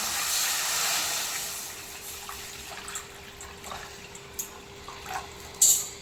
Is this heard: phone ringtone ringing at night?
no